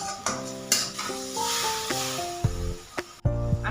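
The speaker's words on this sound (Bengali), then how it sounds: "ভালো করে মশলাটা কষিয়ে নিই।" Spice masala being stir-fried in a pan, with a soft sizzle and intermittent scraping of a spatula, joined by a few brief tonal clinks and hums between strokes.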